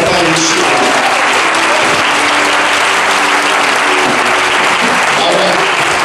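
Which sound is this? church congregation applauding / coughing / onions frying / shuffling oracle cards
church congregation applauding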